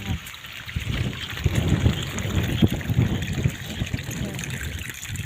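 Water trickles and gurgles steadily close by through a paddy field, a continuous low flowing sound with small splashes.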